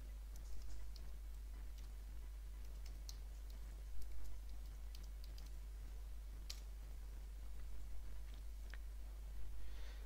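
Commands being typed on a computer keyboard, a quiet run of soft, irregular key clicks heard close and alone over a faint steady hum.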